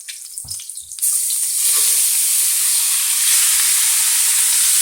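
Shrimp dropped into hot oil in a pan burst into a loud, bright sizzle after a second of quiet handling sounds, the hiss then holding steady and close.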